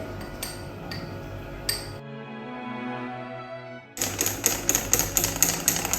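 A spoon stirs ice cream soda made with passion fruit syrup, chilled milk and soda in a glass, giving quick rhythmic clinks, a short quieter humming pause, then louder, denser clinking and rattling.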